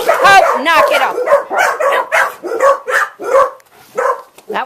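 A puppy yips and barks in a rapid run of sharp, close bursts while a person speaks over it to scold the dog.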